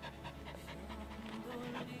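A Belgian Tervuren shepherd dog pants steadily in quick, rhythmic breaths close by, with faint background noise throughout.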